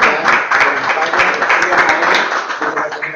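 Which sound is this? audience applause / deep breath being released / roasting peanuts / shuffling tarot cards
audience applause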